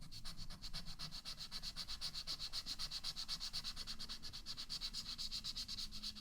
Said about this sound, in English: I'm going to apply a little bit more of sandpaper